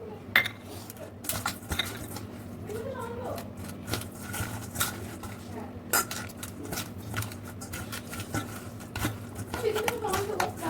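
Fish is mixed by hand with spices and oil in a bowl, giving soft, close squelching and clinks against the dish, with talk running over it.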